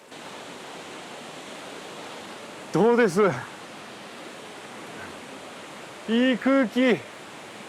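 Spray from a waterfall makes a steady, even rush of white-noise hiss throughout, with people speaking briefly twice over it.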